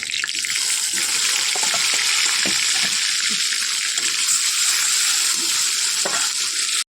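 Fish fries in a pan with a constant, loud, hissing sizzle and occasional soft clinks, heard up close without any voices.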